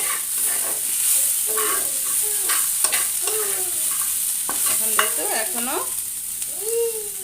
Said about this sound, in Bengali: আরও একটু ভাজতে হবে এখনো হয়নি